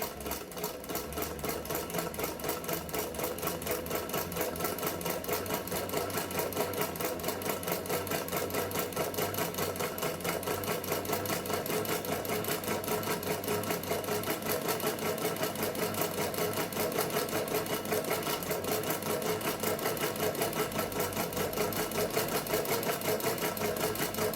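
A sewing machine runs continuously, stitching an elastic casing around a fabric bowl cover, its fast, even mechanical whir close and steady for the whole stretch.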